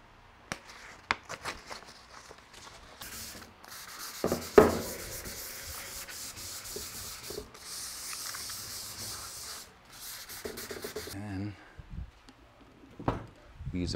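Venetian plaster wall being hand-sanded with 400 grit sandpaper: steady close rubbing and scraping strokes across most of the span, with a few knocks and a louder bump, fading near the end.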